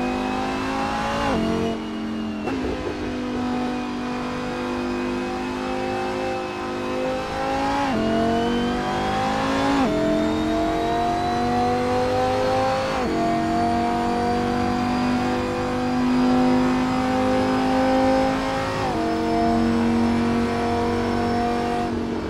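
Race car engine in the Assetto Corsa Competizione racing game during a night lap, revving steadily with repeated upshifts and brief dips between gears, loud and continuous with no talk.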